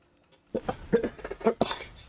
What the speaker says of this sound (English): I've had this nasty cough.